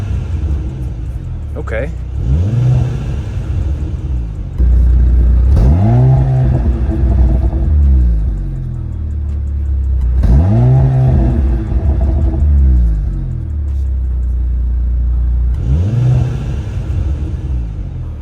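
A 2023 Mercedes-AMG C43 engine revs up about four times in succession, each swell rising to a loud roar and falling back into deep exhaust burbles, with a brief spoken word near the start.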